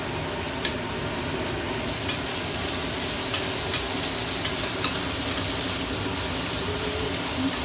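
Baby corn and cauliflower sauté in a pan for a vegetable Hyderabadi biryani, producing a steady sizzle with scattered light clicks and scraping stirs, close and continuous without speech.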